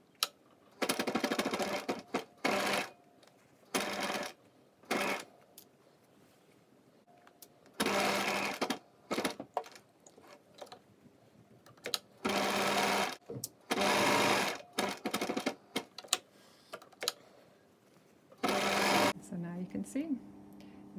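Sewing machine stitching a zip pocket bag, running in repeated loud bursts of rapid whirring separated by short pauses, with a voice talking quietly between the runs.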